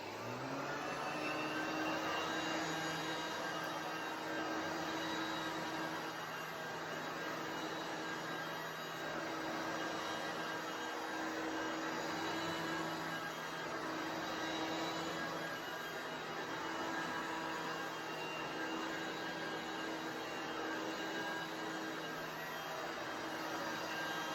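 A rare vintage Premier vacuum cleaner runs with a steady, droning motor whine and airy rush, constant and unbroken throughout at moderate distance.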